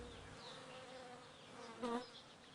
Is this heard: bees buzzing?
yes